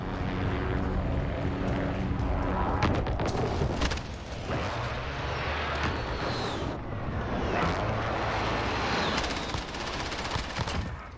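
Airstrike in Call of Duty: a dense barrage of loud gunfire and explosive booms rolls continuously over an aircraft roar, with sharp cracks and a sweeping flyover whine cutting through the sustained din.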